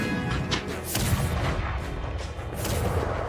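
Black-powder cannon firing a blank charge touched off with a burning-rope linstock, a single loud boom rolling out with dense, broad noise and sustained rumble through the whole stretch.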